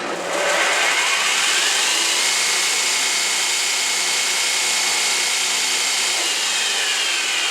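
A KT drum floor sander runs after a tracking adjustment, a loud, steady motor whine with abrasive sanding roar that rises within the first half second and holds constant.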